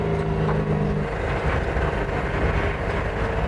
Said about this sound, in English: It's a car that runs on compressed air,